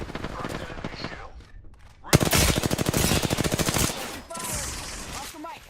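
Rapid automatic gunfire rattles in a long, loud burst during an Apex Legends match, followed by scattered game effects, with brief voices faintly under the action.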